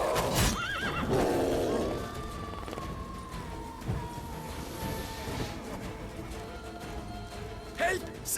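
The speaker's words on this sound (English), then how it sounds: "Whoa there, Roach" In the video game Witcher 3, the horse Roach gives a clear neigh early on, heard alongside hoof clatter and a mix of shouting voices and game sounds.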